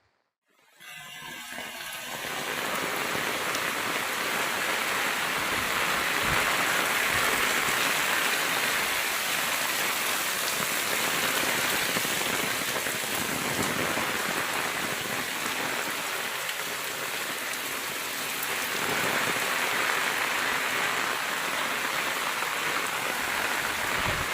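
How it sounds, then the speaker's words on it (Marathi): Heavy monsoon rain pours down steadily by a flooded river in Konkan, a dense continuous roar of falling water starting abruptly and holding loud to the end. "जोरदार पाऊस पडतोय आणि नदीला आलाय पूर"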